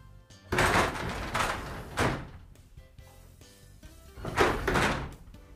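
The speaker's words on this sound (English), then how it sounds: "The door should stay in position, open, closed, and anywhere in between." A Whiting CommandLIFT roll-up door moves open and closed in several loud rumbling passes with clunks between them, each stretch of rattling travel lasting about a second, with no talk.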